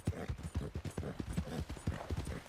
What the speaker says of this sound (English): That looks like a pretty nice horse you got there.